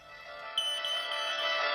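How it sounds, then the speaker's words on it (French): A smoke detector chirps loudly when its test button is pressed, giving a steady, piercing alarm tone that rings on continuously without talk. "c'est d'appuyer sur le bouton au milieu, le bouton test, pour voir si votre détecteur fonctionne"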